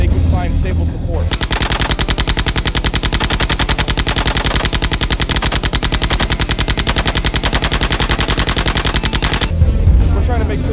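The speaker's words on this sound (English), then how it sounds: "We tend to use it as a roving machine gun, so we can set a gunner up and have them anywhere they can find stable support." Sustained rapid automatic fire from an M240 Bravo machine gun aboard a US Navy destroyer, loud and close, a dense unbroken burst of several seconds with quieter ambient noise before and after.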